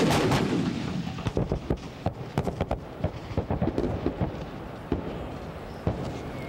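M109 howitzer artillery firing: a heavy opening blast followed by many rapid, sharp reports and thuds in an irregular rhythm, some near and some distant, with no talking.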